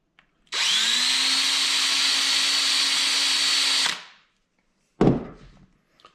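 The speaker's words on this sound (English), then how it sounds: "I like just using like a 1/4 inch or maybe a 5/16 inch drill bit, and then run it in the tip here a little bit." A 1/4 or 5/16 inch drill bit spun in a power drill to deburr the flared tip of a NiCopp brake line. It makes a steady whine for about three seconds, winds down, then a single sharp thunk follows.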